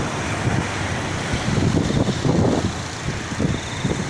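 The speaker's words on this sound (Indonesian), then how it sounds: "Ini anginnya teman-teman" Strong morning wind buffets the microphone beside the Jakarta–Cikampek toll road, a rough, gusting roar that swells and eases in uneven bursts, with no voices.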